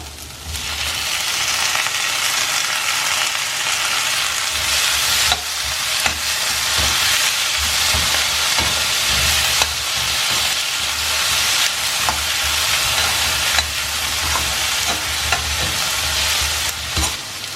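Finely cut tomatoes and spring onions sizzle in a Chinese egg stir fry, a loud, continuous hiss of frying that carries on steadily throughout, with occasional faint stirring clicks and no talking.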